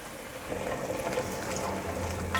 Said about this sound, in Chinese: 这时候可以开小火，让它煨煮。